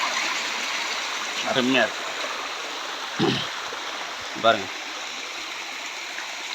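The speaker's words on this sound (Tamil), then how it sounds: "ஆனால் மலையிலேருந்து தண்ணி இங்கே வருது பாருங்கள்" A mountain stream runs down from the hills in a steady, rushing hiss of flowing water heard close by, with a person speaking briefly over it a few times.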